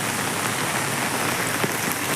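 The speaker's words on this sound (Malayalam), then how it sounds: "നല്ല മഴയാണ് നല്ല മഴയാണ് രാവിലെ തന്നെ" Heavy rain pours down in a dense, unbroken roar beneath a culvert bridge by a highway service road, loud and close, with no voices.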